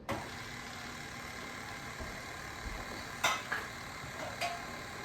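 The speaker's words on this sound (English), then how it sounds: "Now we'll let that mix up a little bit and then we will put the rest in." Pumpkin muffin batter is mixed in a kitchen, probably by an electric mixer, with a steady whirring hum throughout and a few brief clatters of tools against the bowl, with no talking.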